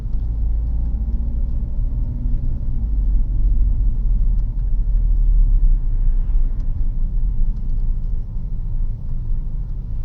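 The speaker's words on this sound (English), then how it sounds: "A lot of traffic, but it seems like it's moving." Road traffic heard from inside a moving vehicle, a steady low engine and road rumble that holds at an even level throughout with no talk over it.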